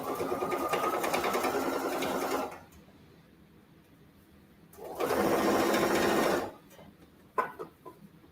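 A sewing machine stitching bias tape onto a zippered cross-body bag, two steady whirring runs of about two seconds each with a quiet gap between, followed by a few knocks as the fabric is handled.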